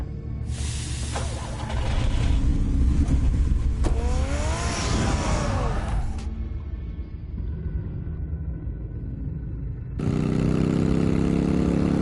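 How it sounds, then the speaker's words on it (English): A car engine in the Telltale Batman video game runs and revs as the car is driven, a steady mid-pitched drone with rising revs in the middle, a brief lull, then a louder surge near the end, with no voices. "Get the car ready, Alfred"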